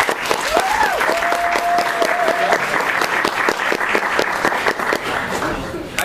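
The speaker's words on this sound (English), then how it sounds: "Can we give him a round of applause, please?" A pub crowd at a science talk in Anchorage claps steadily and loudly throughout, with a brief whistle early on and scattered louder claps standing out from the dense applause.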